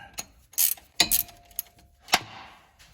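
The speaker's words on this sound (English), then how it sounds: "We got the ratcheting wrench and put it on the right direction." A ratcheting wrench works a 19 mm engine mount nut loose on a 2005 Lexus ES330 with a broken mount, making short, close metallic clicks and clatters in uneven bursts.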